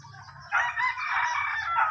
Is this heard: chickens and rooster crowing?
yes